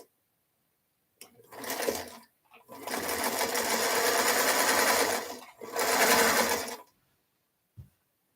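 Nearby sewing machine stitches fabric squares in three bursts of fast, steady whirring, the middle run longest, separated by brief quiet pauses.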